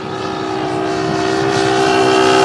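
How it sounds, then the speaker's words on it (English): A fast vehicle engine drones loudly with a steady, tonal roar that grows louder as it approaches over a couple of seconds. "Now listen carefully to the sound of the engine."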